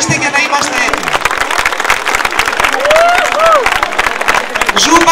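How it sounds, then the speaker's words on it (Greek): An audience at a dance school's Zumba show claps in a dense, continuous burst of applause, with a voice speaking over it and a few whistle-like cries near the end. "Χειροκροτήστε για να είμαστε έτοιμοι."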